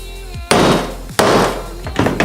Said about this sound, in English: A couple more whacks.